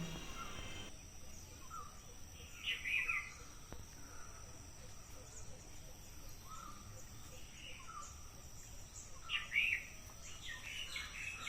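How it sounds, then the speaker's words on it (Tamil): Birds call faintly in the distance, a few short bursts of chirping over a quiet outdoor hush. "பறவைங்கள்லாம் சத்தம் போட்டுட்ருக்குது"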